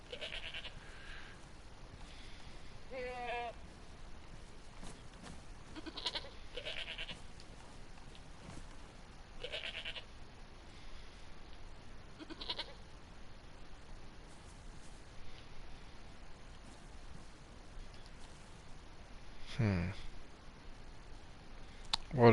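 Billy goats bleat in the DayZ video game, a few scattered nasal calls at moderate distance over faint ambient noise, with someone talking now and then.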